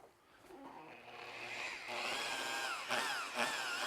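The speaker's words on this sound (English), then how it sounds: "Trying to start the pad slowly to minimize the splatter. Now let it do its buffing." A rotary polisher with a very soft foam swirl-removing pad buffs car paint, its motor whine rising as it spins up from a slow start and holding a fairly quiet, steady drone.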